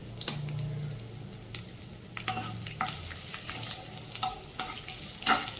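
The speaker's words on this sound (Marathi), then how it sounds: "जिरे चांगले तडतडू देऊया त्यानंतर त्यामध्ये टाकून घेत आहे लसूण" Cumin seeds and garlic frying in oil for a dry spinach dish: a low, steady sizzle with scattered crackles and pops and a few soft stirring clinks, fairly quiet, with no voices.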